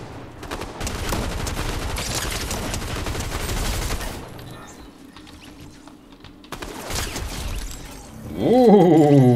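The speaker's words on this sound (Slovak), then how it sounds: "Kde sa strieľajú?" Bursts of rapid gunfire in Fortnite crackle and rattle for several seconds, pause, then resume, ending with a rising electronic tone.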